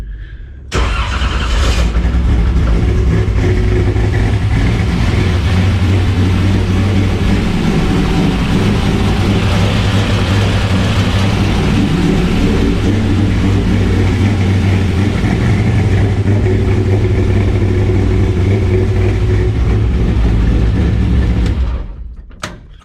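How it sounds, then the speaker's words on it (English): A Chevrolet Camaro C-Prepared autocross car, fitted with a Holley HydraMat fuel pickup, cranks and fires, then settles into a loud, steady, rumbling idle held for about twenty seconds before cutting off. "Let's start the car."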